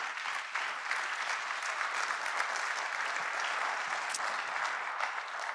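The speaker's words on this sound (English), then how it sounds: "Let's give them a round of applause" A church congregation at a contemporary service applauds at a distance, steady dense clapping sustained evenly throughout without talk.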